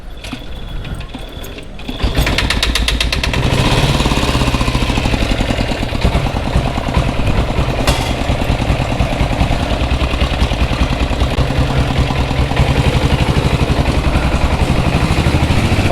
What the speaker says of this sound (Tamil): இதை ஸ்டார்ட் பண்ணுறதுக்குள்ளே ஒரு வழி ஆயிடுறேன்.